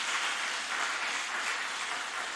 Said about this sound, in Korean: 이참에 박수 한번 칩시다.